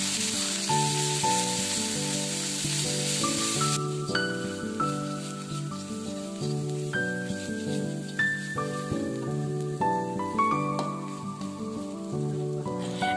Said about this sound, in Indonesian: Dioseng-oseng sampai ambune wangi lan berubah kecoklatan ya lur.